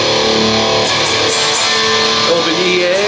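A guitar plays part of a country song, strumming open chords and a walk-down in a dense, loud, continuous wash of sound with no gaps.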